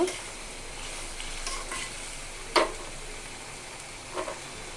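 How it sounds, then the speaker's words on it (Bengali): A spoon stirs a fish, potato and pointed gourd curry in a pan over a faint, steady sizzle, with a couple of brief scrapes against the metal standing out; no voices. "আলু পটল সিদ্ধ হয়ে গেছে না এখন একটু সুন্দর করে কষিয়ে নেব"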